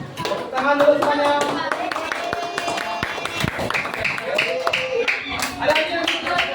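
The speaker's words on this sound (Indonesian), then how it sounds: "Tepuk tangan dulu semuanya." A whole class of students claps together in a classroom, steady scattered hand claps continuing for several seconds while children's voices and talk carry underneath.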